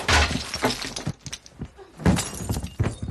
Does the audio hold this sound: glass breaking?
yes